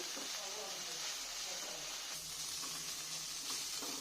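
Chili powder and ground green chili paste sizzle steadily in a hot pan while spices are stir-cooked for a mustard-poppy pomfret curry, a continuous close hiss with faint scraping and no voice.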